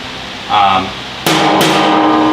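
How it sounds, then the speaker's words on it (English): A hammer strikes a metal body panel held against a dolly in two sharp metallic hits, close and loud, following a brief burst of other noise. "I put this dolly this way and I hit it with this hammer"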